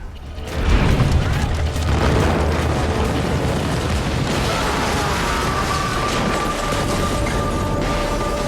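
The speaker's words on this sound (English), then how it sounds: "It was a great explosion" A staged propane explosion on a TV set bursts out with a sudden loud boom and rolls into a sustained roaring rumble that lingers for several seconds, with a faint whine rising near the end.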